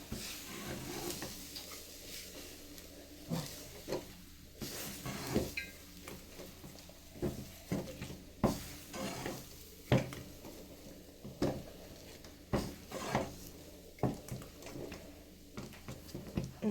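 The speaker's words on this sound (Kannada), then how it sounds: "ಮಿಕ್ಸ್ ಮಾಡ್ಕೊಳ್ಳೋಣ ಚೆನ್ನಾಗಿ ಇದನ್ನು" Ragi laddu mixture being stirred and scraped in a pan, with irregular knocks and scrapes of the spoon against the metal repeating steadily over a low background, no talking.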